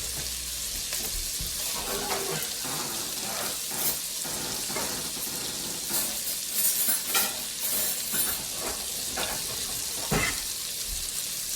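An egg frying in a pan alongside steaks: a steady close sizzle with scattered pops and the light scrape and clatter of a spoon running throughout, with no voices.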